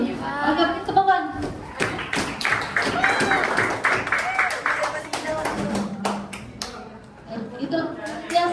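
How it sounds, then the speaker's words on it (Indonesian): A classroom of students claps their hands together, a dense burst of applause running for several seconds, loud and close, with a teacher's voice around it. "Oke, tepukan."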